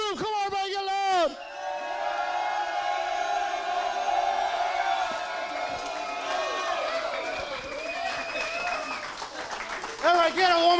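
A crowd at a Nissan dealership meeting claps together, a steady wash of applause running under the whole stretch while a loud voice shouts over it at the start and again near the end.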